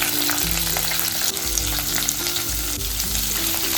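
Onion fries in oil with mustard seeds, cumin and curry leaves in a pan, making a loud, continuous close sizzle with a stirring scrape now and then and no talk.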